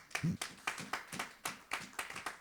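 A church congregation applauds during a sermon, producing a quiet, rhythmic patter of hand claps at a steady pace, heard alone without speech.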